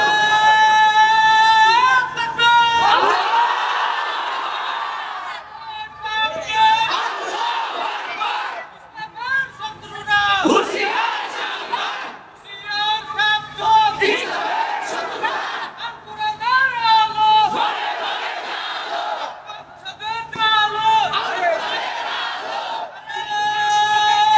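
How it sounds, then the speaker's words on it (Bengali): Large gathering at an Islamic sermon (waz) shouting a takbir chant in repeated loud bursts, voices swelling and dropping between calls, with some cheering and chatter throughout. "জোরে মারো, দাও তাকবীর দাও"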